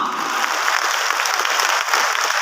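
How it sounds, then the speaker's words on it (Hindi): An audience at a motivational gathering applauds steadily for the gurus, a dense, loud, continuous wash of many hands clapping with no talking on top. "आप सभी के महागुरु और गुरुओं के लिए एक जोरदार तालियां"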